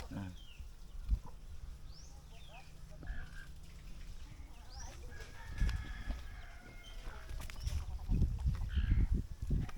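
Chickens cluck and a rooster crows at a rural farmyard nesting spot, the short rising calls repeating at moderate distance over steady outdoor background noise, with some low thumps and handling sounds and occasional faint voices nearby.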